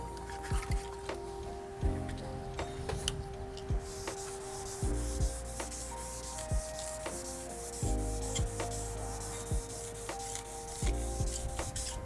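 Wet sandpaper rubs by hand over automotive paint in steady back-and-forth strokes with a gritty, damp scrubbing texture. The sound is close and moderately quiet and continues for several seconds, with faint tonal background hum.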